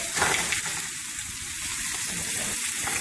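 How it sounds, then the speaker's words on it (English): Meat taken straight from the package sears in a hot skillet, giving a steady, close, crackling sizzle that holds constant throughout with no talking. "I got a hot skillet, and I'm just taking it straight out the pack. And I'm gonna sear both sides of it."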